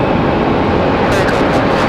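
A JetBlue airliner at Raleigh-Durham International Airport gives a continuous broadband engine roar that holds steady over the short stretch.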